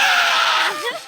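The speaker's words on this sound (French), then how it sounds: "Et d'un seul coup, elle regarde son tel et elle crie." A little girl screams from a phone video, a loud high sustained shriek that breaks into wavering, falling vocal sounds before trailing off.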